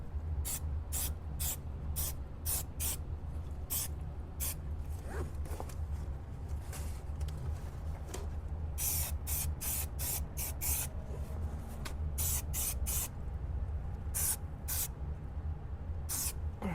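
An aerosol can sprays inside a 1969 Camaro during a headliner installation, giving many short hissing bursts. Some bursts come singly and others in quick clusters, with no talk.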